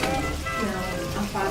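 Horse meatballs rolled in flour fry in hot fat, giving a steady close sizzle and crackle throughout, with a voice speaking faintly underneath.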